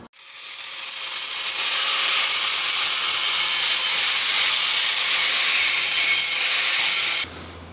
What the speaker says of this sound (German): jetzt geht's los. Schmeiß die Flex an.